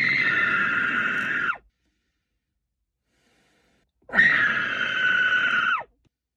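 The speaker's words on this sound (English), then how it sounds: "I just want to scream for a second." A woman screams twice among massive old trees in a forest, two long loud cries each about a second and a half, separated by a few seconds of silence.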